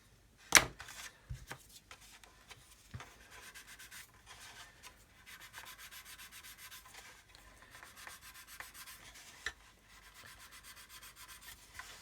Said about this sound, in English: just use the knife just to scrape away